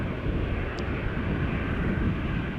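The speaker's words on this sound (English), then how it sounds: "KLM flight 705 to Rio de Janeiro also seems to be coming this way." A KLM airliner taxiing at Amsterdam Schiphol Airport gives a steady, moderate engine rumble and broadband roar that holds evenly throughout, with no talk over it.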